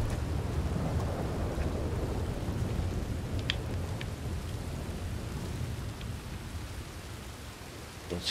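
Rain pours steadily through a thunderstorm in the video game Red Dead Redemption 2, with low rumbling thunder beneath a dense hiss of raindrops that stays loud and even throughout.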